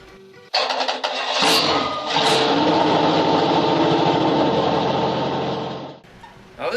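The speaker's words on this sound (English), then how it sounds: "Now here we are firing up Jim's little 283" Small-block Chevrolet 283 V8, sitting for eight years, cranks briefly and then fires up, roaring loudly and running rough for several seconds before cutting off abruptly.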